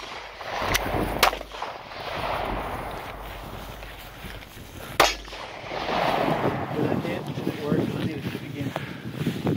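Pistol fire during a close-range shooting drill outdoors, three sharp reports spread over about five seconds, with wind rumble, shuffling movement and people talking throughout.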